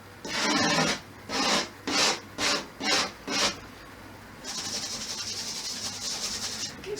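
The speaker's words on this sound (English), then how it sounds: "Scratching." Charcoal scratched across paper during a line drawing exercise: six short rasping strokes in a steady rhythm, close and clear, followed by a longer, softer continuous scratch with no talking.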